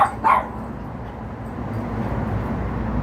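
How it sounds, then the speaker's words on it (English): Dogs bark twice in quick succession right at the start, loud and close, then fall quiet under a low steady background hum. "So my dogs go crazy."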